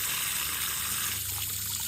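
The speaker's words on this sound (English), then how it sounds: "So we got the water flushing." Hot water flushes out of a water heater drain, a steady faint hiss and trickle of flowing water carrying sediment, continuous and close.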